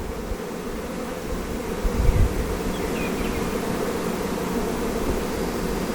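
A dense swarm of honey bees hums steadily close by as a hive is split into a nucleus colony, a continuous buzzing drone with a brief low thump partway through.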